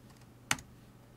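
A single crisp keystroke on a computer keyboard, short and close, against a quiet room hum.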